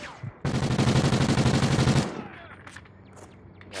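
Rapid burst of automatic gunfire during a hunting outing, a loud close string of about fifteen quick shots lasting over a second and a half, then trailing off into echo and faint voices.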